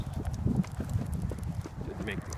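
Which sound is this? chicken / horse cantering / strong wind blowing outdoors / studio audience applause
horse cantering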